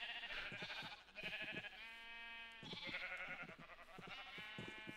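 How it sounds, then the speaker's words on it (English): Several sheep in the video game Minecraft bleat in repeated, drawn-out calls over a steady background, close and fairly loud, with no talking. "Come on, sheep, get away from the door."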